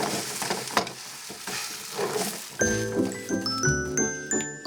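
A Korean buchimgae pancake topped with sliced chili peppers sizzles in a pan, frying close by with scraping sounds. Partway through, bright chiming music comes in over the frying.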